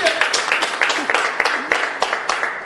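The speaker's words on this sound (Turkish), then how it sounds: "Bunun için hadi kopartın alkışı." Studio audience at a Turkish TV entertainment show claps in a dense, steady round of applause, moderately loud and continuous for a few seconds.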